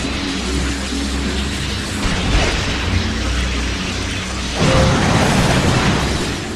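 Explosions in Ratchet and Clank Future: A Crack In Time burst amid a dense, noisy game soundscape, with a louder blast near the end rising over continuous rumbling effects.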